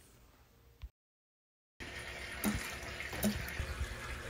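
A Hygger aquarium gravel vacuum sucking water during a tank water change. Faint trickling stops briefly, then a steady rushing, gurgling flow resumes with occasional splashes.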